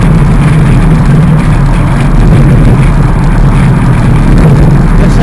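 A 1957 Ford Thunderbird Roadster cruises along a road on a sunny day, its engine a steady, smooth low hum with broadband road and wind noise, no voices.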